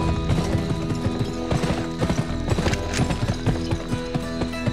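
Hooves clip-clop rapidly and steadily as a horse gallops in the PS2 western game Gun, a close, continuous rhythmic pounding with occasional snorts and no talk.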